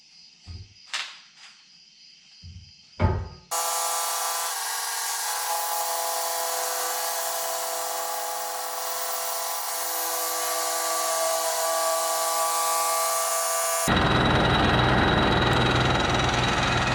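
A gas-powered demolition saw runs at full throttle for a long, loud, steady stretch, its high engine whine continuous after a few short knocks and clunks, growing harsher near the end.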